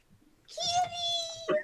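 A voice mimics a cat's meow during a tabletop fantasy game: one drawn-out, nasal mewing cry with a short rising catch at the end, heard close and moderately loud over faint background murmur.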